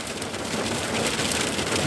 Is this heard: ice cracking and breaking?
yes